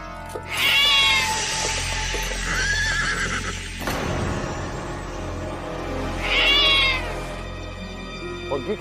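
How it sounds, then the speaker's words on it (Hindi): A cat meows loudly and close, two long wavering cries several seconds apart, with a shorter softer mew between them over a low rumbling background. "बिल्ली ने रास्ता काट गई कुंवर जी।"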